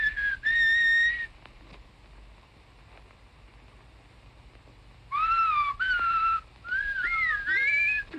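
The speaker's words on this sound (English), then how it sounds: "I heard somebody whistle, and I'm fond of whistling." A man whistles a bright melodic tune in short phrases, a sustained note near the start and then a livelier run of rising and falling whistles after a pause, loud and alone in a quiet interior from a 1929 crime drama.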